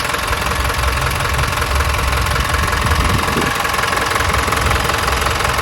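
A Hino FC9J six-wheel water truck's 175-horsepower diesel engine runs at a steady idle, a loud, close, even rumbling drone with a slight knock and no talking.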